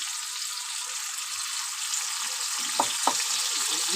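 Beans and potatoes fry in a pan with a steady, even hiss of sizzling oil, joined by two brief soft knocks near the end, close and continuous.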